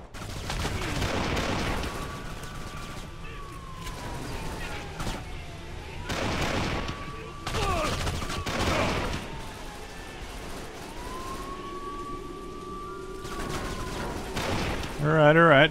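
Gunfire from a new high-caliber gun in Kane & Lynch 2: several loud bursts of shots recur through the clip, mixed with a wailing siren and other game sounds, with a voice talking between them.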